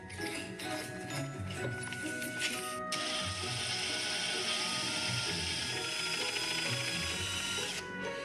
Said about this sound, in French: Comme il y a déjà un trou, je peux d'entrée attaquer avec la grande mèche.